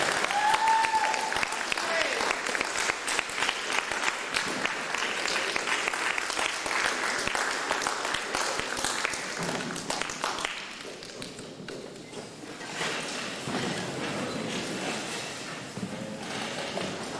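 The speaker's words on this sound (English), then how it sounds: "Give him a round of applause." Audience applause at a college lecture event as a speaker is brought up, steady clapping that thins and fades to scattered claps partway through.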